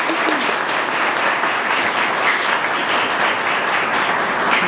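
A crowd claps at a police recruit class graduation ceremony, steady, full applause from many people in a large room, continuing evenly for several seconds.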